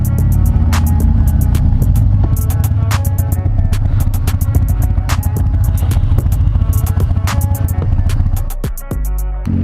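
A Harley motorcycle engine running steadily and loud throughout, a continuous throbbing rumble with rhythmic clatter, easing off just before the end.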